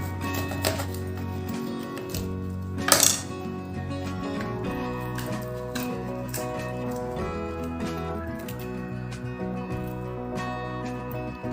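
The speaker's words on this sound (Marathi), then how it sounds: "दुसरी कारला आपण कापून बघू।" Bitter gourd being cut with a knife for stuffed masala karela, a series of faint close taps and scrapes against a board with one sharper knock, over quiet background music.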